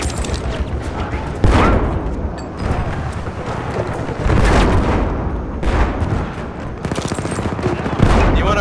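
Gunfire in Battlefield 1 during an Amiens operations match: bursts of rifle and machine-gun fire with heavy booms, loud and dense throughout, with a voice speaking under the shooting.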